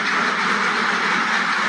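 A flock of farm ducks quacks at feeding time, a dense, continuous, loud chorus of overlapping calls close by, with no speech heard.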